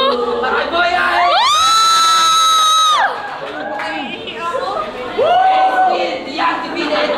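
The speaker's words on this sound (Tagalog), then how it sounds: "Sigawan para kay Boy uli." A crowd at a FlipTop battle rap event shouts and cheers for Boy in loud, sustained bursts, with whoops and a long high shout that fades, then swells again near the end.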